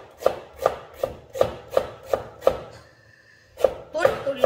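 Cabbage for kimchi is sliced by hand with a knife on a board, a run of evenly spaced crisp chops, a brief pause, then a few more cuts, close and clear.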